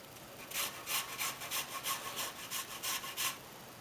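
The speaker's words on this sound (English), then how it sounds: "now I'm gonna grate in a little lemon zest" Lemon zest being grated on a metal grater for a New York style cheesecake, a steady series of about a dozen crisp, rasping strokes in a regular rhythm, close and fairly loud with no talking.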